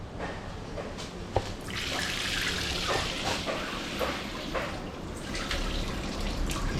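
Water from an antique-style house plumbing setup in the Philippines runs steadily at low pressure, a continuous broadband hiss with small drips and splashes spread through it.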